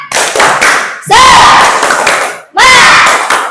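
A school class performs a rhythmic spirit-clap chant led by a teacher, loud bursts of group clapping and shouted chanting in two or three surges separated by brief pauses.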